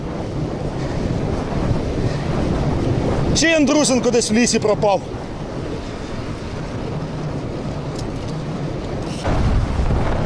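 Strong headwind buffeting the microphone during a long bicycle ride, a steady rough low rumble that runs throughout, with someone briefly speaking over it partway through.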